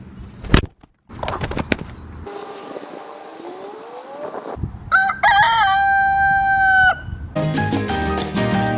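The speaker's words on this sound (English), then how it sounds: "And now for the chickens." A rooster crows loudly with stretched, wavering calls alongside chickens clucking and squawking in bursts, several short calls up close followed by sustained crowing near the end.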